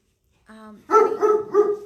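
A neighbor's dog lets out a short whine followed by three quick loud barks, close by, with nothing else audible around them.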